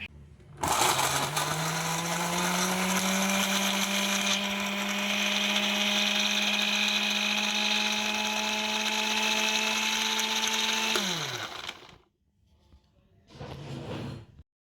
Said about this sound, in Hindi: उसको ग्राइंड कर लेते हैं।